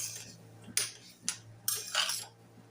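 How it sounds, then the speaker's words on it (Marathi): Stuffed brinjal being stirred and sautéed in a pan, several distinct scraping strokes of a spatula against metal over a low background hum, close and fairly quiet. "आता हे बघा, व्यवस्थित आता आपण हे चांगलं परतून घेऊया"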